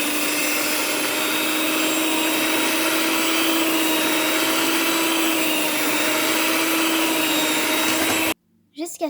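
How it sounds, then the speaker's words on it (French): Electric hand mixer beating donut dough in a bowl, a loud, steady high-pitched whirring motor drone lasting several seconds before stopping abruptly, followed by a brief soft voice. "je fais au batteur électrique"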